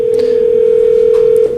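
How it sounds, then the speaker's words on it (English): A telephone sounds off in a press conference room, giving one steady, unbroken electronic tone that holds for over a second before cutting off, loud and close over faint room noise. "That's someone else's phone there."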